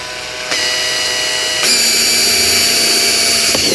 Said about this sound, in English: This is just a 1/4-inch drill bit or something right into the rim so I have something to zip tie.